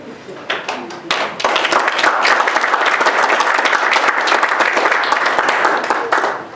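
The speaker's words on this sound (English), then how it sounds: "I'll give them a healthy round of applause." A small audience at a Halloween music recital applauds the performers, starting with a few claps and quickly swelling into loud, close, steady clapping that tapers off at the end.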